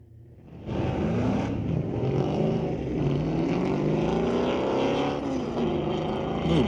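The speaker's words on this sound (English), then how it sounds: "bit of a nostalgia type drag race going on with the Javelin and the old Firebird" AMC Javelin and an old Firebird launching side by side in a nostalgia drag race at a street-legal drag night, engines roaring loud and sustained with rising revs after a quiet opening moment.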